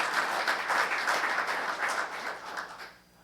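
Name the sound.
audience applause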